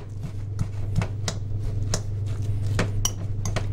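Malakoff dough ingredients mixed in a bowl, making repeated clinking, scraping strokes of utensil against bowl in a steady rhythm over a constant low hum.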